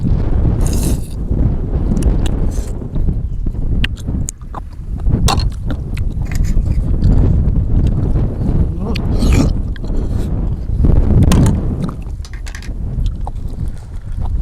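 Strong wind buffets the microphone outdoors with a steady, loud, low roar and occasional gusty bursts throughout, with no one speaking.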